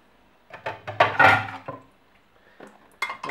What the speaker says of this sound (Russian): Вот мы загрузили все тарелки.